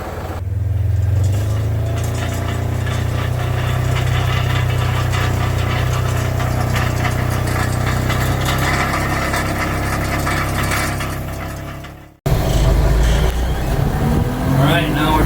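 Tractor engine running steadily on a Kentucky farm while being driven down to load a cultipacker, a loud low rumble holding for about twelve seconds before cutting to a different, rougher engine sound with talk over it.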